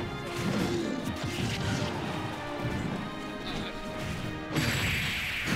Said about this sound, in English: Forward smash taking out Ridley.